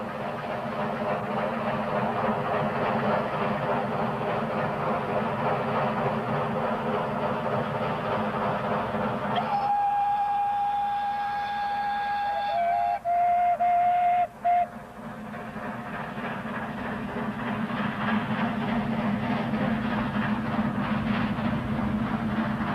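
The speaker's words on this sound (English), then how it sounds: "double-headed Baldwin locomotives can be seen hauling a regular train" Two Baldwin 2-8-2 steam locomotives, double-headed, haul a regular train uphill toward Hojas d'Agua in Patagonia, Argentina, before dawn. A steady labouring rumble runs throughout, broken midway by several seconds of sustained whistle tones.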